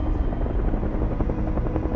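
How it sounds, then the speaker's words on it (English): Helicopters flying overhead in a Stranger Things scene, a steady low rotor thrum and engine drone holding continuous and fairly loud throughout, with no talk. "Oh, they've got the choppers out."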